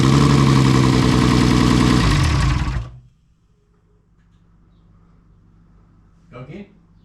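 A Nissan Skyline RB engine, just started for the first time, runs loud and close with a rough steady drone for about three seconds, then cuts out abruptly into near quiet, broken only by a brief faint noise.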